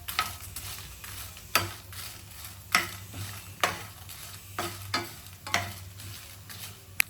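Cumin seeds and Byadagi chillies fry in hot oil with a continuous close sizzle, punctuated by regular sharp scrapes of a spoon stirring the pan.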